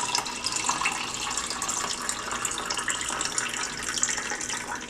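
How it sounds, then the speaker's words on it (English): Warm water pours steadily from a tap or jug into a container for a homemade rice water hair recipe, a continuous close splashing stream with no talk. "now I'm going to add in some more of this warm water"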